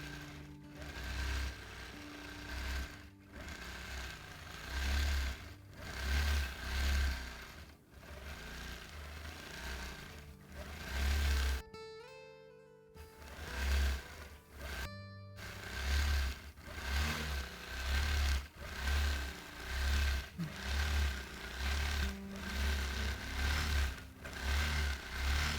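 A quilting machine stitches an all-over feather pattern, whirring in repeated surges that rise and fall as the stitching speeds up and slows, with a couple of brief pauses midway.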